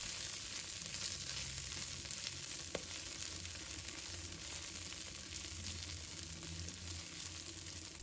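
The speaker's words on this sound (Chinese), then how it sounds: "这个时候把葱放下来，这个时候下去炒出葱的香气就好" Scallions hitting a wok with ginger and garlic already frying over low heat give a steady, close sizzle that runs unbroken throughout, with faint stirring scrapes now and then and no voices.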